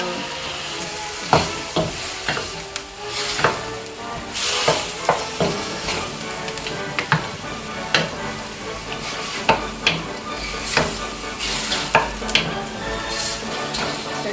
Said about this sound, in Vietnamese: So my shrimp and my scallop is almost cooked.